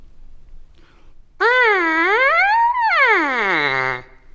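Lips buzzing into a trumpet mouthpiece slide up and down in pitch in a siren-like wail, loud and alone for a few seconds before stopping.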